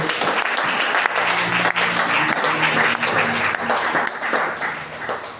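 A church congregation at a Sunday service applauds with dense, sustained clapping from many hands, loud and continuous throughout with slight swells.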